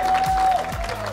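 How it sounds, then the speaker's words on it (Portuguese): An audience at a rap battle grand final claps loudly and close by in a short, dense burst of applause lasting about a second. "Aplausos para o Cauê!"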